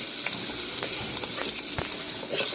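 Cumin seeds, raw onion and green chili fry in hot oil for a mixed-vegetable fish curry, a dense close sizzle with scattered crackles and the scrape of stirring, no talking.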